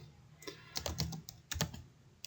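Keys tapped on a computer keyboard while entering a bills-to-pay spreadsheet in Google Sheets, heard as a few quick, close clusters of clicks with short pauses between them, no talking.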